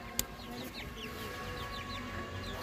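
Around twenty fifteen-day-old tiger chicken chicks in their pen give quick, repeated high peeps and soft clucks over a constant low hum, with one sharp click near the start.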